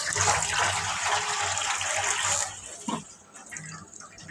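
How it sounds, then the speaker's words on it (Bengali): Tap water gushes over a pot lid for a couple of seconds, then stops, followed by a soft clink and quiet handling sounds. "আমরা ঢাকনাটা ধুয়ে তরকারির উপরে দিই।"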